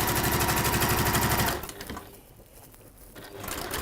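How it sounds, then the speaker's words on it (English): A sewing machine runs fast and loud through fabric for about a second and a half, sewing off at an angle at the end of a seam, then stops and leaves quieter handling noise. "just sort of sew off at an angle"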